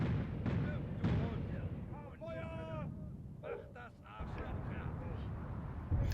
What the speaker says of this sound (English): I think that's still my own artillery.